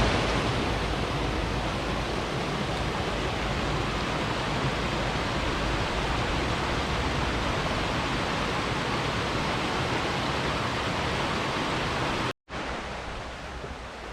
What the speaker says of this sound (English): Take a look at this first waterfall.